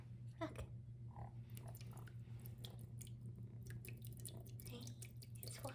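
A kitten laps water from a pet water fountain, soft wet drips and squishy licks against a steady low pump hum, faint and close.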